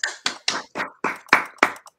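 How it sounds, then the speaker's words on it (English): Hands clap at an awards ceremony in honour of the awardees: seven sharp, close claps in a brisk, even rhythm, heard alone with no talk. "a big applause to all the awardees."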